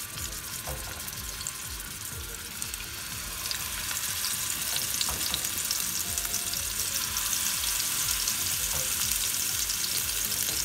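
Thick fish pieces fry in hot oil in a hot pan, giving a steady, dense sizzle that grows slightly louder after a few seconds and holds with faint crackles, no voices.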